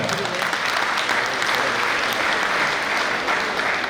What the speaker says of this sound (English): may I have a big round of applause for him